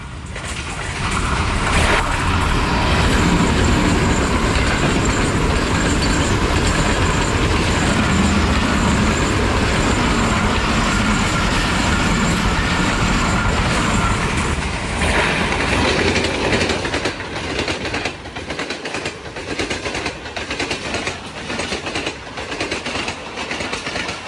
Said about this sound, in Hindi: बिल्कुल right time 8 down Tezgam Haripur बांध रेलवे स्टेशन से पास थ्रू कर रही है ZCU20 6419 के साथ।